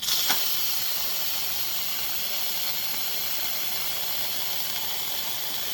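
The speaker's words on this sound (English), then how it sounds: "Get all the steam out" Steam hissing out of a pressure cooker used for corned beef, cabbage, potatoes and carrots, a steady bright hiss close by with a small click at the start, holding nearly constant throughout.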